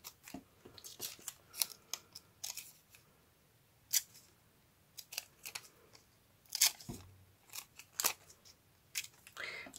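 Scissors snip through paper stamps in sharp, irregular short cuts, close and crisp against near silence, with a soft knock partway through.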